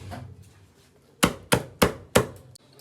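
A kitchen knife chopping scallion and ginger on a cutting board, four crisp evenly spaced chops close up after a quieter stretch of handling.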